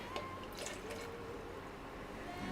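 Liquid being poured out of a container, half emptied, as a faint, soft trickle and drip, close and quiet, with no voices.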